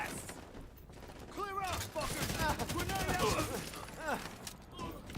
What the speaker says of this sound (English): That was some shooting.